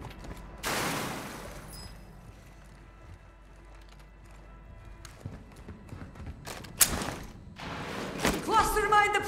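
Gunfire in Call of Duty: Warzone 2.0 comes in a few sharp, loud bursts: one near the start and a cluster later on. Quieter stretches of game ambience and thuds sit between them.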